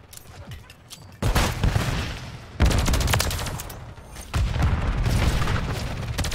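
Loud bursts of video-game turret fire come in three sustained volleys, each starting abruptly and rattling on with a booming, crackling texture, separated by brief quieter gaps.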